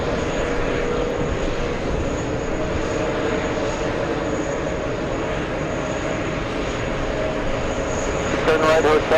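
A large British Airways airliner takes off at JFK airport, its loud, steady broadband engine roar filling the air from start to end while people talk nearby.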